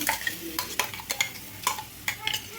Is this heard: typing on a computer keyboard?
no